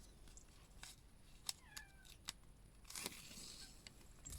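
A cat gives a couple of faint, short meows in a quiet room, with light rustling and clicks around it and no talking.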